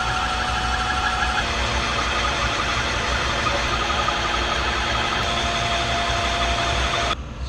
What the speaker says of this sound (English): Now I've got the cutter set up to do the intake seat counterbore.